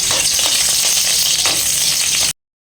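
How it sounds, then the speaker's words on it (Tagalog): Onion and garlic sauté in hot oil in a kawali, giving a loud, dense, crackling sizzle right up close that runs without a break and then cuts off abruptly. "Pagigisa tayo ng sibuyas at bawang."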